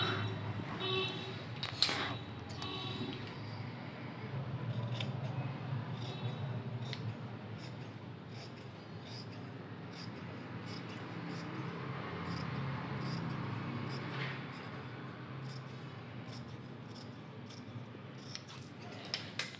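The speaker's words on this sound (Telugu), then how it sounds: "ఈ ఎక్స్ట్రా క్లాత్ని నేను కటింగ్ చేసుకుంటున్నాను" Scissors snipping extra cloth from a dress, a series of quiet, crisp cuts spaced through the clip, faint and close over low background noise.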